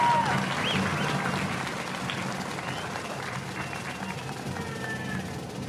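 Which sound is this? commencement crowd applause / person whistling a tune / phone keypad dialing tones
commencement crowd applause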